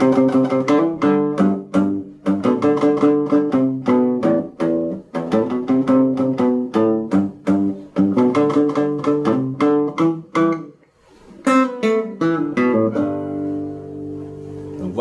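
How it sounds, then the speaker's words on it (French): A musical riff from the tutorial of a song is played at normal speed, with quick, rhythmic, tonal notes in repeated phrases, a brief break near the end, then a held chord, loud and alone. "Voici pour le riff à vitesse normale."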